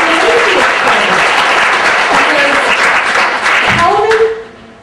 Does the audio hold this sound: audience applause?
yes